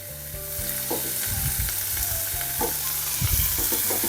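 Peeled tomatoes go into a pan where onion and garlic are already frying, giving a loud close sizzle with a few clunks and stirring scrapes, no talk.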